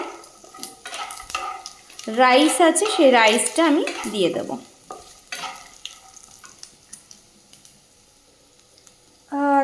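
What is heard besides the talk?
frying curry leaves, dried chillies, peanuts and chana dal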